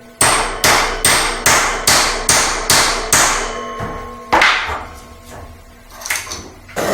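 A hammer smacks a cable lug crimping tool set on a sturdy surface, landing seven sharp, evenly spaced blows in quick succession, then a couple of looser knocks and handling sounds after a short pause.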